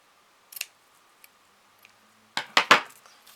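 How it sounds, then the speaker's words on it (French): A few crisp snips of large scissors through paper, with sparse light clicks in a quiet room and a quick cluster of cuts near the end. "oui, j'ai pris des énormes ciseaux"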